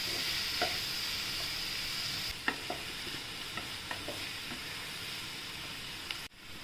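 Onions with ground green chilli and garlic paste stirred in a pan on the stove for a spinach, potato and green pea dry vegetable, frying with a steady sizzle and a few scraping stirs, close and without talk.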